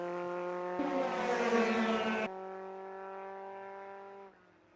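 Race cars pass at Road America: a loud, close engine snarl sweeps by, then a steady drone fades as the car pulls away, with a second engine tone trailing off at the end; no talking.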